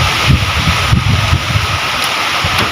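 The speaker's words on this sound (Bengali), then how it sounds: "অনেক তুফান হচ্ছে।" Blustery stormy wind under a darkening sky, a steady roar buffeting the microphone in uneven gusts, with no voices.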